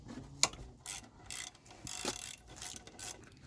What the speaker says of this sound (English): To undo everything, we'll start by taking the caliper slide bolts out